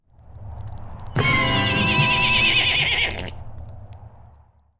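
A loud, close horse whinny rings out for about two seconds as a dramatized sound effect, rising over a low rumble of street battle noise in a science-fiction radio play.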